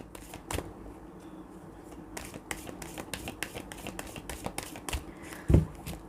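Tarot cards are shuffled by hand in a quiet room, a series of soft riffling flicks and taps at close range, ending with a sharper snap of the deck.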